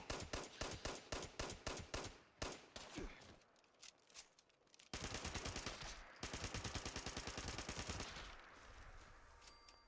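Rapid bursts of 10mm submachine gun fire in a shooter video game, sharp repeated shots in fast volleys with short pauses, then a sustained dense stretch of continuous firing and clatter.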